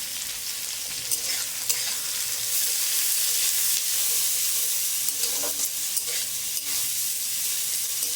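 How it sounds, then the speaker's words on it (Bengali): Sliced onions frying in hot mustard oil in a pan, giving a continuous loud sizzle with occasional stirring scrapes and no voices. "পেঁয়াজটা যাতে একটু ভালোভাবে ভাজা হয়"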